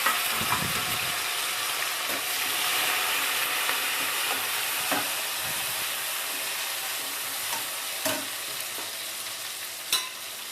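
Pepper and cumin sizzle in hot oil for a paruppu rasam tempering, a steady, loud frying hiss with small crackles and stirring clicks, close up and with no voices.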